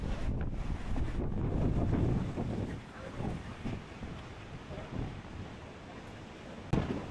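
Strong winter wind on the Jiaoxi coast of Taiwan's north shore batters the microphone in loud, rumbling gusts that ease and surge, with surf in the background.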